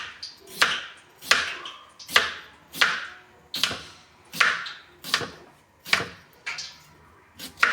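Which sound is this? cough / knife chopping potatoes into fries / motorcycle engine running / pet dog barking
knife chopping potatoes into fries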